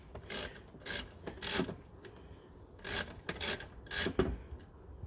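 A ratchet wrench with a 7mm socket clicks in short bursts, about seven quick crisp ratcheting strokes close up, while fitting a K&N induction kit on a Ford Mondeo Mk3 ST220.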